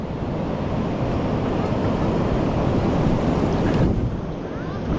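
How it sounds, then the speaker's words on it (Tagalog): Loud ocean surf rolling onto a beach, a steady broad roar of breaking waves with wind buffeting the microphone, continuous and close throughout. "Lakas ng tunog ng alon mga kabisig oh."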